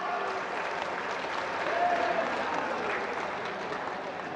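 Steady, dense applause from a large crowd at a government programme in Odisha marking one year of the state government, sustained and even throughout with no pauses.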